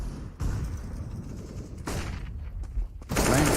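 Gunfire rings out in a professional Counter-Strike match on the Dust2 map, with sharp bursts of shots and echoing blasts breaking through a constant game din.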